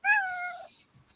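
A single clear, close meow from an indoor house cat, rising then falling over about half a second, followed by near silence.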